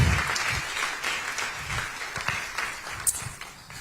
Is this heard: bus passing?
no